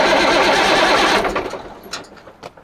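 A Ford CLT9000 truck engine cranks with a loud, steady rapid whir that fades out partway through, leaving a few quieter knocks and clicks close by, with no one talking.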